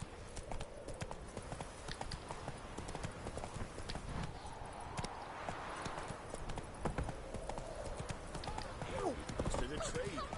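Roach the horse's hooves clop in a steady, close rhythm through the game Witcher 3, with a quiet voice speaking over the trotting.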